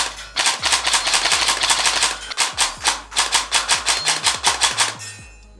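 A custom stage 4 gel blaster fires, first a rapid sustained burst of loud close shots, then a string of separate evenly spaced shots with short gaps.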